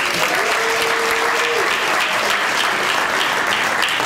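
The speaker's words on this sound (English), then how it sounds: "please give them all a round of applause as I call their names" A sustained wash of audience applause fills the room for community partners, dense and even throughout, with a brief tonal whine near the start.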